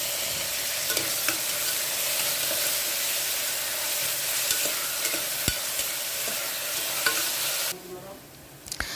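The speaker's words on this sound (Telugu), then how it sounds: "ఆయిల్ కూడా హీట్ అయిన తర్వాత తరిగి పెట్టుకున్న ఉల్లిపాయలు, పచ్చిమిరకాయలు వేసుకొని బాగా వేయించుకోవాలి." Chopped onions and green chillies fry in hot oil for a mutton curry, a loud, steady sizzle with scattered crackles and occasional stirring clicks, continuous throughout before fading near the end.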